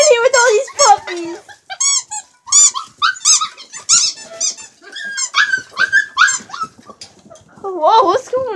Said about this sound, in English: We're in here with all these puppies.